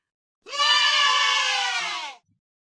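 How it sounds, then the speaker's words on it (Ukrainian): A single sheep gives one drawn-out, wavering bleat lasting under two seconds, clear and close against silence. "А ви знаєте, як говорять вівці?"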